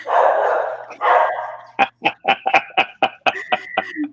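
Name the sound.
dog barking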